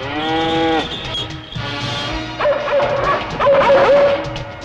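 A cow lets out a long, loud moo in a movie scene, and a dog answers with several sharp barks and yips close by.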